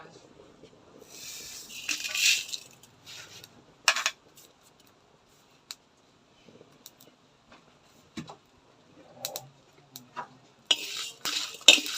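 Spices such as fenugreek, cumin, fennel and dried chillies dry-roast in a pan, heard as sparse scraping stirs and light clinks of a utensil, with short quiet gaps between strokes.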